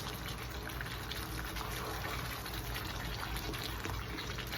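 Water poured into a hot pan of tempered spices and curry leaves for Hyderabadi bagare baingan, a steady close sizzling gush that runs continuously without pause.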